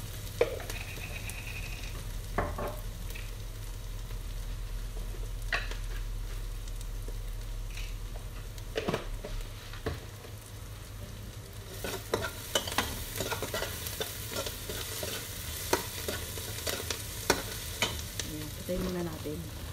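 Chopped onion with ginger and garlic frying and being stirred in a pan for goat salona, a steady close sizzle with scraping and utensil clatter that grows busier and louder toward the end.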